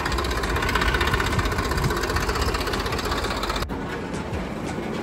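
A tractor engine runs at night with a loud, steady, rough idling rumble close by, continuing evenly before becoming slightly quieter near the end.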